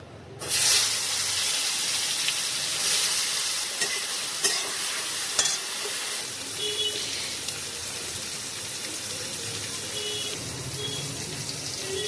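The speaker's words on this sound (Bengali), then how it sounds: "তেল গরম হলে এই বেগুনগুলো নুন হলুদ মাখিয়ে ভেজে নেবো" Eggplant pieces coated in salt and turmeric drop into hot oil with nigella seeds in a kadai and burst into a loud, close, continuous sizzle that eases slightly over time. There is no talking.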